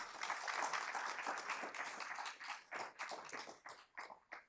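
Applause from a conference keynote audience, a burst of many hands clapping that thins out into fewer, separate claps trailing off at the end, fairly close and moderately loud.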